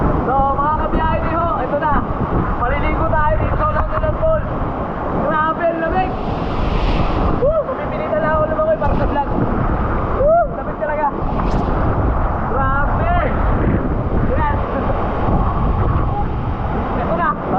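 A 90-foot waterfall in Almeria, Biliran gives off a constant, loud roaring rush that fills the whole scene, with wind buffeting the microphone and a voice talking over it throughout.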